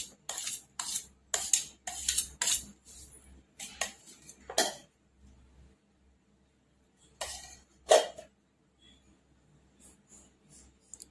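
Mango pieces are spooned into glasses while making mango ice cream, and metal utensils clink and tap against the glass in quick close bursts. A pause follows, then a couple more clinks.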